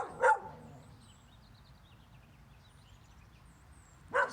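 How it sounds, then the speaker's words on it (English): Two short dog barks in Colorado, one at the start and one about four seconds later, sounding moderately distant over quiet outdoor ambience. "Real dogs barking."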